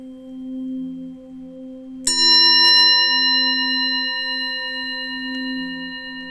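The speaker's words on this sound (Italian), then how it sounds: "Possiamo metterci comodi e chiudere gli occhi al suono della campana." A meditation bell struck once, a clear bright ring that sustains and slowly fades, heard over a steady low hum.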